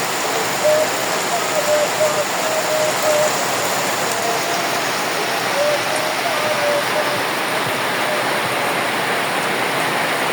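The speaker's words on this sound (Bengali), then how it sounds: "বৃষ্টি হইতেছে, রোদ উঠবো কি এটা বলা যায় না।" Steady rain falls throughout in a village, a dense even hiss of drops with a faint tonal hum drifting in the background.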